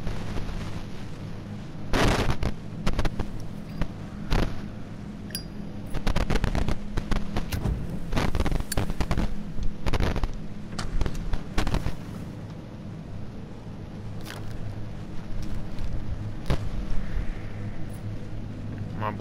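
Gunshots in the Until Dawn horror game crack in rapid bursts, sharp and loud, repeating irregularly over a low background hum, with quieter gaps between volleys.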